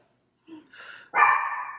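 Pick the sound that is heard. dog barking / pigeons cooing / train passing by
dog barking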